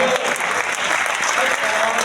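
A kavi sammelan audience claps in a sustained, even burst. The dense applause stays loud from start to finish with no pauses.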